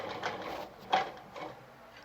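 An Adlerina 240A sewing machine stitching a buttonhole gives quiet, short bursts of mechanical whirring, a few separate runs with a slightly sharper click near the middle.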